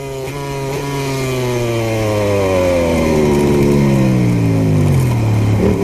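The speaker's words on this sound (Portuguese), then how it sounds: "Essa é a moto do Valentino" A MotoGP racing motorcycle at the Austrian round screams past on track, its high-revving engine loud and continuous with a falling Doppler pitch as it passes, no talk over it.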